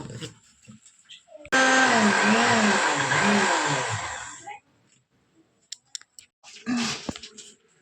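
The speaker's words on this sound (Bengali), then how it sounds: "দেখো আদা রসুন আর কাঁচা লঙ্কা এটা আমি পেস্ট করে নেব" Loud, steady whirring of a kitchen blender grinding ginger, garlic and green chilli into a paste, running for about three seconds before stopping, with some clicking and brief speech around it.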